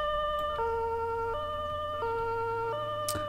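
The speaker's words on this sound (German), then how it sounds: "So, dabei nochmal den schönen Sirenensound von dem VW Caddy." Wailing two-tone siren of a VW Caddy emergency vehicle in the Roblox game Berlin, its high and low tones swapping in a steady repeating pattern, loud and continuous over a low engine hum, with a brief sharp noise near the end.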